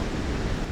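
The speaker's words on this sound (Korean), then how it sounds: "저 뒤에는 파도가 엄청 치고 있는데" Surf breaking steadily on a Galapagos beach, a dense continuous wash of waves with wind noise over the microphone, loud and close throughout.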